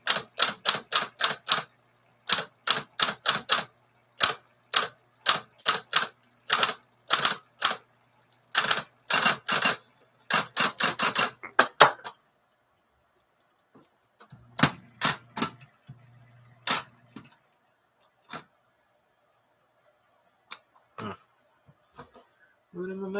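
A 1956 Smith-Corona 5LE electric portable typewriter typing in a workshop, with rapid bursts of sharp keystrikes in uneven runs, then sparser single clacks and short pauses toward the end.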